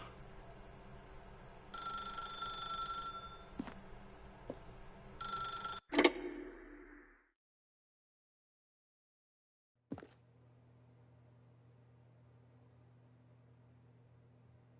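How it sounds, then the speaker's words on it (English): A telephone rings in the video game The Stanley Parable: two bursts of electronic ringing, a sharp clunk as the receiver is lifted, then quiet before a soft click and a low hum. "then pick up the phone"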